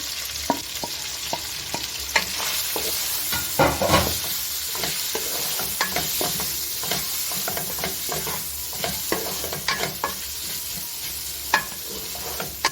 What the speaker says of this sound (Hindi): तो अब हम इसको जो है घी में जो है वो इसको फ्राई करते हैं